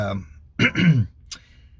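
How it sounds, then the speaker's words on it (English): A person clears their throat up close with a couple of rough, gravelly bursts, followed by a short sharper catch, then quiet. "let me clear my throat."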